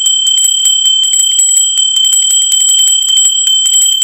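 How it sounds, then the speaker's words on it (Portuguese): A notification bell rings in rapid, steady high-pitched metallic strikes, loud and continuous for several seconds with no voices over it. "Sininho tocou"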